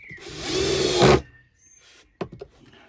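Power drill driving a screw into the wooden panels of a tortoise house, one close, loud whirring burst of about a second, then a quiet gap and a few clunks and knocks.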